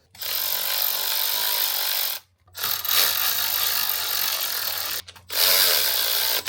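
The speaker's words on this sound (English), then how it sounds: "we'll adjust all the hoses and tighten everything down, starting from probably the throttle body" Hose clamps on the charge pipe of a Honda FL5 Civic Type R are tightened with a ratcheting tool, a close, steady run of clicking that stops for two short pauses.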